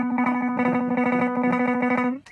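An electric guitar through a distorted effects chain is picked rapidly, with finger flexing adding two notes per pick stroke, giving an even, fast repeated note that rings for about two seconds and then stops.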